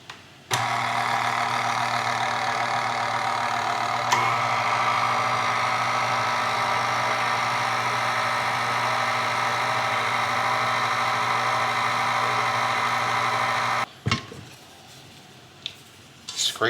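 Stand mixer working three cups of flour into dough, a steady loud motor whirr with a constant hum that runs unbroken for about thirteen seconds, then cuts off abruptly, leaving faint handling noises.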